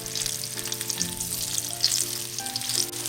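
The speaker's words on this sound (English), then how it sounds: "Maintain medium heat while frying." Double-breaded spicy chicken deep-fries in oil over medium heat, a steady close crackling sizzle with bright popping bursts, heard alone without talk.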